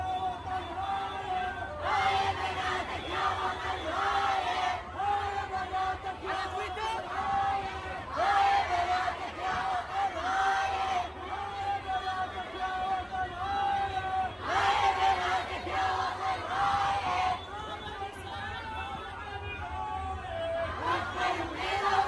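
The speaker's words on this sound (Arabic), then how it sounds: "أظهرت طبعا لقطات مصورة مسيرة كبيرة نظمتها نساء العراق وهن يرددن هتافات مؤيدة للثورة ولمطالبها المشروعة" Large crowd of Iraqi women chanting protest slogans at a street march supporting the revolution in Baghdad's Tahrir Square, a dense, continuous roar of massed voices with rhythmic surges of shouted chants throughout.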